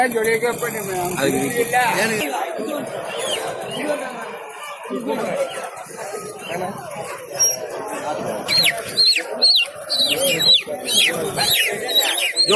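Native chickens cluck and chirp amid a busy outdoor market where they are being sold, with people talking throughout and the bird calls growing more frequent toward the end.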